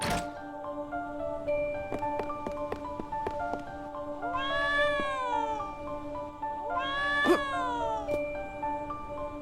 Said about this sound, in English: stock cat sound effects.